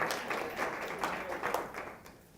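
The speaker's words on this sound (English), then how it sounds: "Let's give him a round of applause." Audience applause at a school strengths-finder session, a steady round of many hands clapping throughout, moderately loud and fairly close, fading slightly toward the end.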